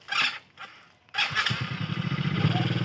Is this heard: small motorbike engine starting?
yes